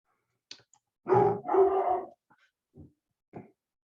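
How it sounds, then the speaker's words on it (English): A dog barks twice in quick succession nearby, followed by a few softer, shorter yips. "that's my daughter's dog in the background"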